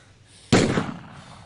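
A single gunshot fired into the ground, one sharp loud crack that bursts suddenly and rings out with a decaying tail over a quiet background.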